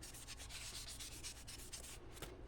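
Hand-sanding a shofar mouthpiece with fine 3000-grit sandpaper, a rapid back-and-forth rasping rub repeated steadily and close up before it trails off.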